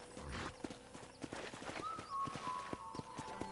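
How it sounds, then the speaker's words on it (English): Horse hooves clip-clop at a steady walking pace in the video game Red Dead Redemption, close and moderately loud, with a soft whinny and faint game ambience around them. "let's see if you can still ride a horse"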